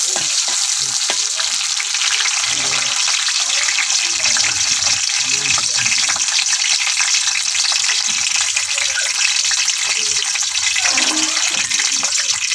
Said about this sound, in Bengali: তেলটা কিন্তু গরম হয়ে গেছে, এখন আমি এই যে খাল এলাচি তেজপাতা দিয়ে লইয়াম।